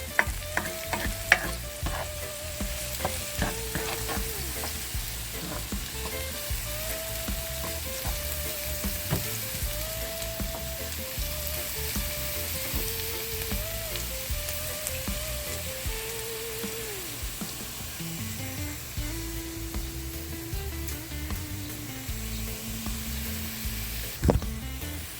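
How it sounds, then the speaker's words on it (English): Jamaican jack mackerel fries in a pan with a steady, close sizzle and crackle, stirred now and then with light scraping clicks, with no talk over it. "I'm gonna let it fry up a little bit more before I add my tomato and my"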